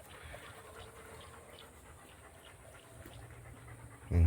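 Several dogs pant quietly nearby in a rapid, breathy rhythm that runs steadily throughout, with a sudden louder bump right at the end.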